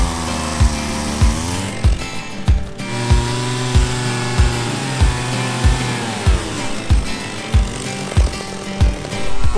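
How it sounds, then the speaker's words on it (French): A small chainsaw cuts firewood into short pieces on a farm, its engine droning steadily and loudly while the pitch rises and falls with each cut, with regular revving pulses and no voices. "Ma soeur a pris la petite tronçonneuse et elle coupe les petits morceaux."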